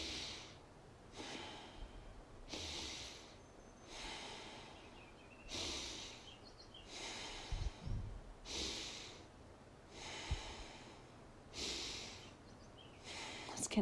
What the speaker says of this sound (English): we will shift into conscious connected breathing,